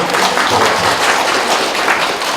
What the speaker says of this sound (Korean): 우리 박수 한번 드릴까요?